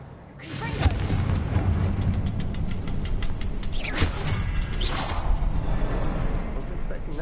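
The Confringo fire spell explodes in Hogwarts Legacy, with whooshing bursts and booming impacts over a steady, busy game backdrop, and a voice speaking briefly.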